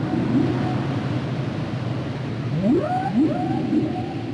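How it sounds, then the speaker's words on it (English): Humpback whale song heard underwater: several rising, sweeping moans and whoops over a steady low rumble of ocean noise, with a long held tone early on, moderately loud and continuous. "Of all the whales, the humpback is the most vocal."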